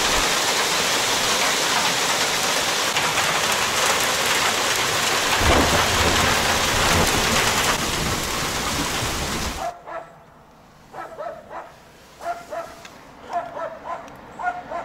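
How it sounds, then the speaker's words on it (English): A heavy rainstorm with falling ice pellets in northern Finland roars loudly and steadily for about ten seconds, then cuts off abruptly, leaving quieter scattered drips and patter. "It wasn't rain really, it was ice."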